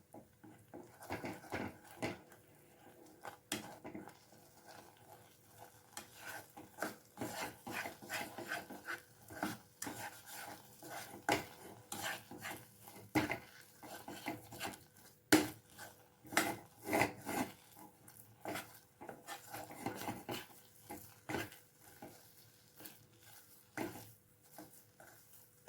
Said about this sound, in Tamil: கட்டி இல்லாமல் நல்லா கலந்துக்கலாம்